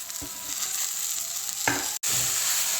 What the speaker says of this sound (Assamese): এতিয়া ভালকৈ এইখিনি আমি মিহলাই ল'ম।